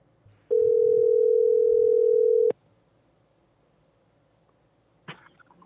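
A telephone dial tone hums as a single steady, loud pitch for about two seconds, then cuts off abruptly, followed by quiet line noise and a short click or rustle.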